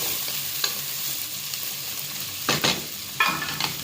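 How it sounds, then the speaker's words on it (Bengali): Garlic and onion with cumin sizzle in very hot oil, a soft steady crackle broken by a few sharp bursts of stirring and spitting near the end. "এখানে রসুন আর পেঁয়াজ ভালো করে বনে নিতেছি"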